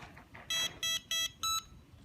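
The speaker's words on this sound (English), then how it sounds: "you push it once, you get 2 beeps" Four short, bright electronic beeps from a Lian Sheng LS-111 remote control transmitter in quick even succession, sharp and clear over a quiet background.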